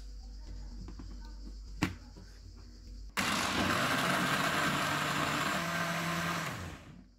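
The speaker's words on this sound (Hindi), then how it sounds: "इनको ब्लेंड करेंगे।" A kitchen blender whirs loudly after a quiet start and a single click, churning lime juice, coconut milk, sugar and pineapple juice for a pina colada in a steady roar for several seconds before winding down.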